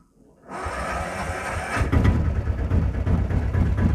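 Auto rickshaw engine cranking into life and settling into an idle: a quiet start, then a catch and a steady, close, buzzing mid-pitched putter that grows slightly rougher and louder as it runs.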